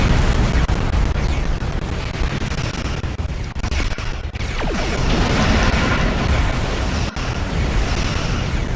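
Explosions in the space combat of the video game Star Trek Online, a dense continuous roar of booms and blasts filling the whole stretch at high level, with no talk.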